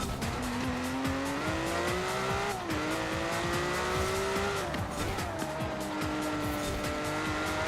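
A Ferrari Testarossa in the video game Forza Horizon 4 cornering, its engine droning steadily with pitch rising and dipping through gear changes while the tires squeal continuously underneath, loud and close throughout.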